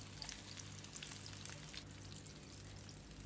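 Small whole zucchini frying in a pan give a steady, close crackling sizzle with scattered pops throughout, no voices over it.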